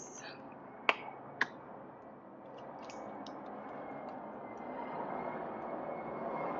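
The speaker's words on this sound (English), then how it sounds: "I don't know if y'all can hear those planes going by outside. They're loud here." Aircraft pass by outside as a steady, loud, building roar that fills the room, preceded by two sharp clicks indoors.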